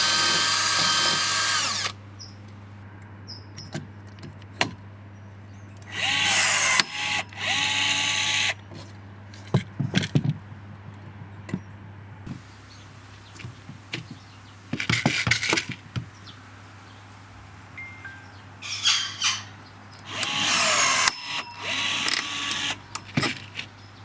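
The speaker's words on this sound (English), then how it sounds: "What about riveting timber to metal?" Milwaukee M12 FUEL cordless riveter pulling a 25mm long, 4.8mm rivet through wood and stainless steel, several short whirring motor bursts separated by pauses, close and clear, with faint clicks between pulls.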